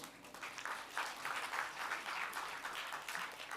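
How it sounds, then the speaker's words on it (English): An audience at the finals of a sustainability quiz applauds a finalist, steady clapping from a modest crowd heard at some distance and fairly quiet. "A round of applause for Kavi Priyan."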